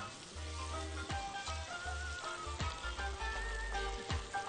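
Onions fry in a pot with rice while being stirred, a steady soft sizzle broken by periodic scraping strokes of a spoon.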